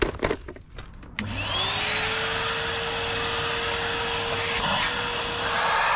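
After some brief clattering, a vacuum cleaner whirs to life and runs with a steady, loud, high-pitched whine until the end, cleaning a classic VW Beetle barn find.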